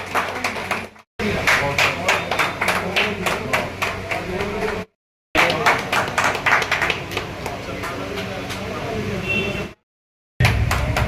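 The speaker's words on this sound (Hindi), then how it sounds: "जोरदार ताली बजा के स्वागत करें" Loud, rapid clapping from a crowd welcoming guests at a Dhan Singh Kotwal Gurjar Kranti Diwas event, in three bursts separated by brief silent cuts, with some voices mixed in.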